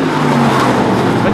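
Race cars on a short track speedway roar past in a dense, steady engine wash that stays loud and close for the whole moment, with no break in the noise.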